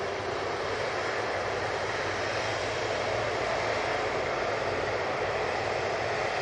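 An Air Tanker airliner taking off from Manchester Airport for Palma de Mallorca, heard as a steady, broad jet engine roar that holds at an even level throughout, with no voices over it.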